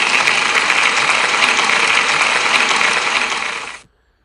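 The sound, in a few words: school audience applauding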